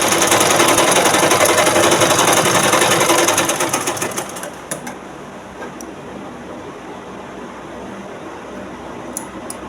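A sewing machine runs loud and fast for about four seconds stitching a blouse centre seam, then slows and stops, leaving quiet room sound with a few faint clicks.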